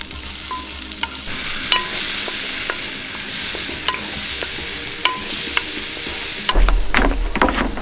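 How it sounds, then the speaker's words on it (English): Onions sizzle and fry in a hot cast-iron potjie pot, a steady crackle with stirring scrapes and clicks, close and continuous, louder hiss near the end, no voices. "once the pot is nice and hot, we add the onions and fry them until they're translucent"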